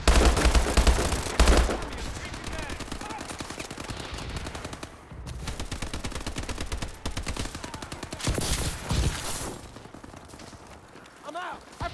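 HBR3 Insanity rifle fire in the video game Call of Duty Advanced Warfare: dense, rapid automatic bursts, loud and close, broken by short pauses, with a voice talking over the shooting.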